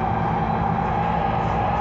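Steady rumble and hum inside a moving BART train, with continuous low-frequency roar and a droning tone that stay loud and unchanging, and no voices.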